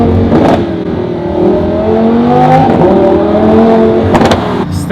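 A Lamborghini engine revs hard and accelerates, loud and close, with rising and falling pitch sweeps and sharp throttle blips around the midpoint and near the end.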